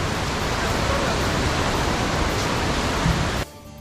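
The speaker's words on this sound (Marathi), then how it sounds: "या बाजूने देवकुंडचं तुफान असं पाणी वाहत येतं" River water from the Devkund waterfall rushing past a sturdy bridge in the Sahyadri hills during monsoon flow, a loud, dense and continuous roar that cuts off abruptly near the end.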